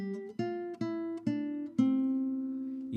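Classical guitar playing the opening part of a Julio Sagreras beginner lesson exercise: a few slow, plucked notes and chords, each ringing out clearly before the next, close and solo with no talking.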